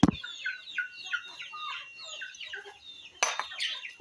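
Native Bisaya chickens cluck in quick, repeated bursts close by, a lively chattering flock waiting to be fed, with a sharp clatter near the end.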